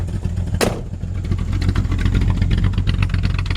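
A 1968 Plymouth Sport Fury, still a little cold, with its engine running through a classic style exhaust in a cul-de-sac: a loud, deep, steady burble with a sharp transient early on, close to the car.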